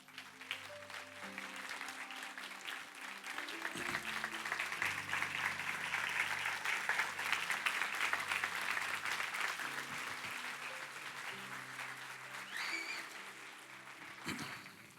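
A standing church congregation applauds during an evening service, a broad sustained wash of clapping that swells and fades over keyboard music.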